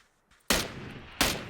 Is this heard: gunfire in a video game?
yes